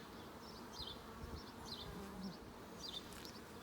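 Honeybee workers buzz on an open hive brood frame lifted during a hive inspection. A steady, soft drone is broken by several brief, higher, sharper buzzes as individual bees pass close.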